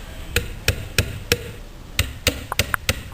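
A hammer strikes a wooden dowel into a desk piece with sharp, close knocks, about ten blows spaced irregularly, some coming quicker toward the end, with no talk.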